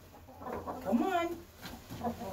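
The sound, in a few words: broody hens clucking in a coop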